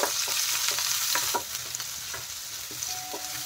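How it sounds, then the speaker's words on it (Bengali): Green chili, grated ginger and grated garlic fry in hot oil, giving a steady close sizzle with scraping stirring strokes throughout and no talk. "হালকা একটু ভেজে নেব।"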